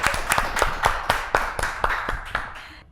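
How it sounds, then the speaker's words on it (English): A small group claps at a school quiz event, giving a steady patter of claps for about three seconds that fades slightly at the end. "Please, a round of applause because we are back to school."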